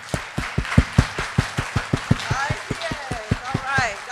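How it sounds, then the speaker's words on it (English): An audience at a university Latinx achievement ceremony performs the Chicano clap, steady sharp claps that start slow and speed up in unison, with whoops and chatter rising in the background. "let's come together to recognize our greatness, right? With the Chicano clap"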